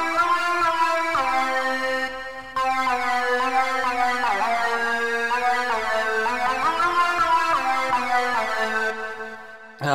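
A sustained LMMS synthesizer tone with rich harmonics shifts through slow chords, bathed in a long, washy reverb tail that fills the space.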